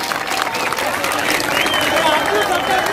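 Crowd applause welcomes a leader at a political rally, a dense, sustained burst of clapping filling the whole stretch, loud and close, with voices mixed in underneath.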